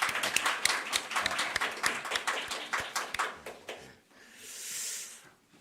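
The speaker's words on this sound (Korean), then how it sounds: "감사의 박수 한번 올려드릴게요" A church congregation claps in thanks during a Sunday service, a dense burst of many hands for about four seconds that breaks off abruptly and leaves a soft hiss of room noise.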